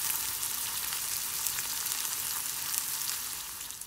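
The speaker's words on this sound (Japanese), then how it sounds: "フライパンにオイルを入れて両面こんがり焼いていきます。" Turkish spiced kofte patties fry in oil in a frying pan, giving a dense, even, close-up sizzle that holds steady throughout with no voices.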